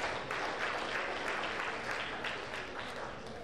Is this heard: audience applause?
yes